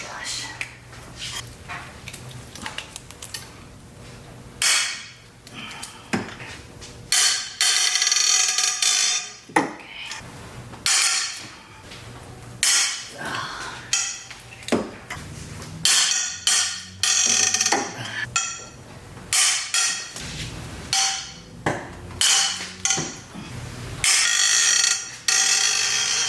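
A breaker bar extended with a pipe working loose engine head bolts: irregular bursts of metallic clicks, clanks and ratcheting knocks, close and sharp, separated by pauses with occasional voices.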